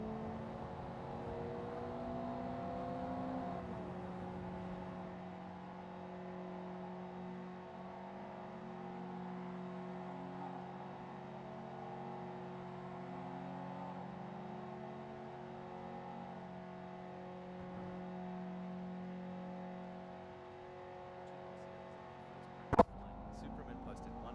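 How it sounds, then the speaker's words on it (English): Several Mazda Eunos Roadster engines drone and rev together in qualifying at Tsukuba circuit in the racing game Assetto Corsa, a steady layered hum with shifting pitches under continuous commentary, ending in a brief sharp click. "as the drivers rev up their engines and put their skills to the test in the qualifying session"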